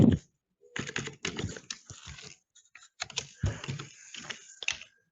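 An email address typed on a computer keyboard, quick bursts of close key clicks in uneven clusters separated by short silences.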